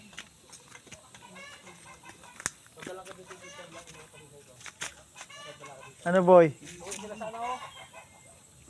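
Chickens cluck and squawk steadily at close range, with a louder flurry of calls partway through, and a person briefly speaks over them.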